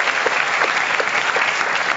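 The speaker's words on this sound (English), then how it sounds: "You deserve a round of applause for what you're doing." An audience on a stage show bursts into steady, dense clapping that fills the room, loud and continuous with no voices over it.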